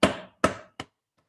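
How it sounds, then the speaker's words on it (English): Three sharp hammer blows lightly driving small nails into wood, close and fairly loud, each ringing briefly; the hits come quicker and shorter toward the end, then silence. "I'm just gonna go in and just lightly hammer all of them"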